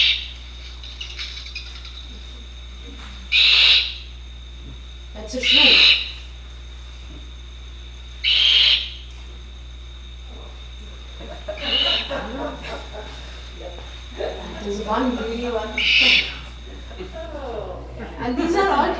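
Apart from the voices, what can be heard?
brown fish owl calls at nest with chick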